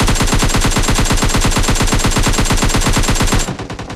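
Rapid automatic gunfire in PUBG Lite, loud and close, firing in a steady unbroken burst for about three and a half seconds before cutting off abruptly.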